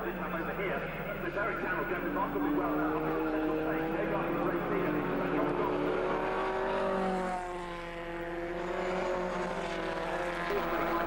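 Pre-1966 Formula 1 racing cars pass at Silverstone, a sustained engine drone with shifting pitch as cars go by, under continuous race commentary from a man.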